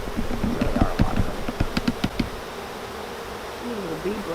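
A swarm of about forty thousand bees being moved into a new hive gives a steady, close insect hum with a few sharp tapping knocks early on. No one speaks over it.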